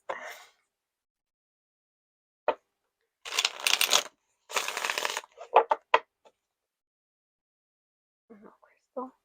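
Tarot cards shuffled in two close bursts of crisp riffling, with a few short isolated card snaps and soft vocal sounds before and after.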